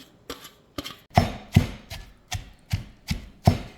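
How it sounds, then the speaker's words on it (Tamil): Curry leaves, fennel, tamarind, ginger, onion and grated coconut pounded together in a mortar, about eight evenly spaced heavy thuds, close and loud, alone without speech. "கருவேப்பிலை, பெருஞ்சீரகம், புளி, இஞ்சி, வெங்காயம், தேங்காய் பூ எல்லாம் உண்டா போட்டு இடிப்போம்."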